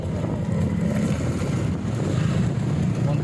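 Steady gusting wind roars through a rainy typhoon storm, a continuous broadband rush with low rumble that holds loud and close for the whole stretch, with no talk over it.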